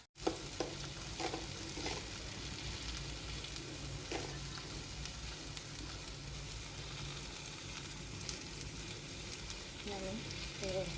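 Vegetables being stirred and sautéed in a hot pan, giving a steady sizzle with scraping stirs throughout, with a few faint voices in the background.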